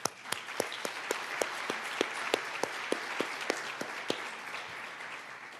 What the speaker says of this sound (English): I will especially request a big round of applause for them